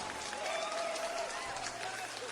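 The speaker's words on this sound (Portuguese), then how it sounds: "Aplausos para os nossos queridos ouvintes." Applause on a morning radio news program, a soft, dense wash of clapping at low level, with a faint tone lingering in the background.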